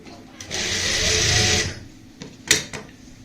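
A sewing machine stitches lace onto plain fabric for a neckline, one close burst of whirring stitches lasting about a second, followed by a few quick clicks and handling noises.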